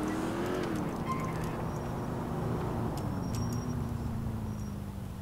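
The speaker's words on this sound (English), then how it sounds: "I have monster trucks in my game." A monster truck engine drones steadily in the GTA IV video game, a continuous revving motor with a slight pitch bend, accompanied by faint game sound effects.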